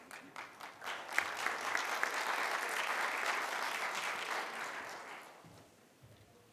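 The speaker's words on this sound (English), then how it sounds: "I was wondering whether I would get a round of applause" A debate audience at the eLearning Africa 2022 conference claps steadily for several seconds, the applause swelling, holding, then tapering off to a few scattered claps.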